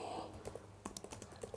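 Quiet computer keyboard typing of a folder name, a short run of light irregular keystrokes after a brief pause, close and soft.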